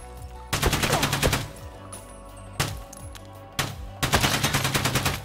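Suppressed AK rifle fire in the video game Escape from Tarkov: a quick burst of muffled shots, two isolated single shots, then another rapid burst, all crisp and close with no talking.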